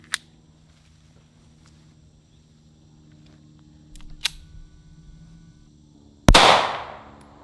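A single loud shot from a 9mm SIG P365 pistol firing a 115-grain full metal jacket round outdoors at about 21 feet, a sharp blast with a ringing decay after a few quiet clicks and handling sounds.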